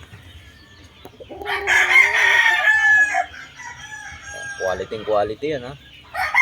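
A young rooster crows in one long, ringing call close by, then gives a few short clucks, while someone talks quietly in the background.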